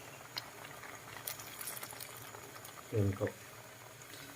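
Sinigang broth with shrimp simmering in a pot, a soft bubbling hiss running steadily beneath someone speaking, with a brief louder clatter near the end.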